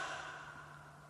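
A slow, steady exhale during a relaxation breathing exercise, a soft breathy sigh close to the microphone that fades gradually over about a second, with no talking.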